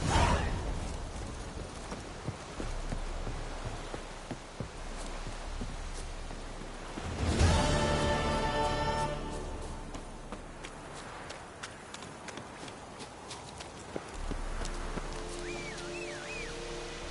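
Roach the horse gallops in The Witcher 3: Wild Hunt, steady hoofbeats clip-clopping at a quick rhythm, with a sudden louder swell partway through before the hooves continue moderately close.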